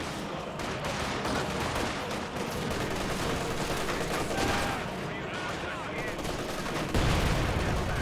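Soviet artillery fire in a Company of Heroes 2 match, a dense rumble of battle with booming blasts and crackling gunfire layered over a caster's voice.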